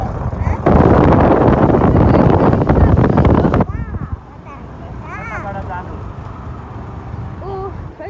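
A cool wind gusts hard against the microphone in a loud, roaring buffet lasting about three seconds. It then drops away, leaving a softer breeze as people talk.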